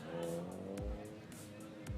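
Autocross race cars at a regional championship in Davao run toward the finish line, engines revving up and down through shifts with tire noise, moderately distant with faint background voices.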